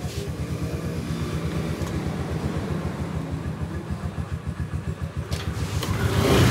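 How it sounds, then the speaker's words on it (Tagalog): After a new IC fuel pump and tank go in, an engine turns over and runs in a rapid, rhythmic low chug, steady and close, then swells louder near the end as it revs. "So nailagay na natin yung bagong IC pump ni boss mga katropa. Tapos yung tangke niya nailagay na natin. Subukan natin siyang paandarin."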